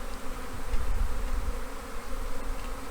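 A honeybee swarm clustered in a tree gives off a steady, dense buzzing that hums on throughout without a break, with no voices over it.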